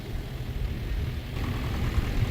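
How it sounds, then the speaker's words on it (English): Tractors rumble past at a ploughing match, a steady low engine drone that swells slightly as they draw near, with no talk over it. "Here come the next lot of tractors."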